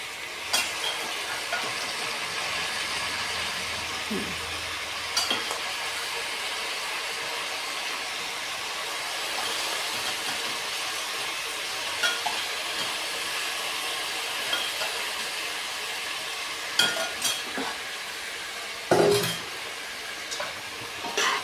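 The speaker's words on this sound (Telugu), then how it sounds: "ఇలాగ ఈ గరిటె పెట్టి ఇలా కలుపుకోవాలి కొంచెంసేపు కలిపితే స్మెల్ పోతాయి" Vegetables for veg biryani are stirred in a pot with a ladle, giving a steady, faint scraping and soft sizzle throughout, with a few brief louder clinks of the ladle against the pot.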